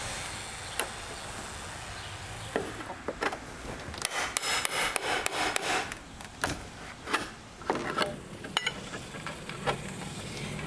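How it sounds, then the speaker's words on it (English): A utility knife scoring and scraping paint along a wooden window casing, with repeated rough, rasping strokes that come in bursts and pauses, close and fairly loud. "use a utility knife and just cut away the paint a little bit"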